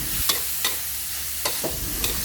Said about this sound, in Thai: ผัดจนเห็ดหอมสุกค่ะ